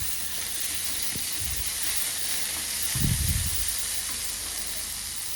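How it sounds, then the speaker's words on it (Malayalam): Tomatoes sautéing in a pan for prawn dum biryani: a steady, bright sizzle and hiss fills the scene, with a few soft stirring scrapes, the loudest one about midway. "ഇനി നമ്മൾ തക്കാളി ചേർക്കും."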